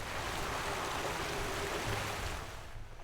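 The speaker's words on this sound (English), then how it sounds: "A little waterfall down here." A small waterfall in the Outer Wilds game world, a constant rushing splash of falling water, close and steady, easing slightly at the end with no talking.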